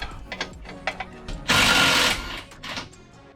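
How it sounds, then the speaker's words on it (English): A wrench works a bolt loose on the rear suspension of a BMW E53, giving a series of close, sharp ratcheting clicks, then a longer grinding burst in the middle, followed by a few more clicks. "Then I have to have a key on the other side to hold it while I loosen it up."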